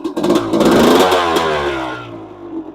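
A 1999 Honda CR250 two-stroke dirt bike engine revs loudly up close as it is knocked into first gear with a dragging, catching clutch, the revs rising then sagging and settling back down.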